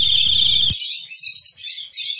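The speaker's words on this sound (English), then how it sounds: "I hear the birds singing." Springtime birds singing, short bright chirps repeating in quick bursts, close and fairly loud, with a brief low sound at the start.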